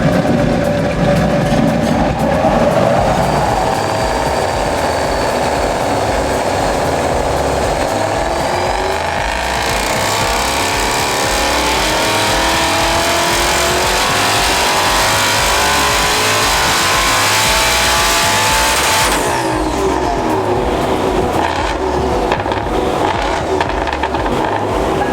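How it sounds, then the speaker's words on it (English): A Hellion twin-turbo 2019 Mustang GT with a 6-speed manual runs loud and steady for about 25 seconds, its engine note rising and falling through sweeping revs with a dense, continuous roar and no talking. "Hellion twin turbo, 2019 Mustang, 6-speed manual."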